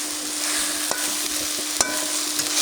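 Jute leaves stir-fried in a pan give a steady, bright sizzle of hot oil. A spatula scrapes and knocks against the metal with a few sharp taps, and nobody speaks.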